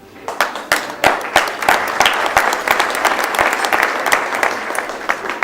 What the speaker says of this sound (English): You can applaud yourselves.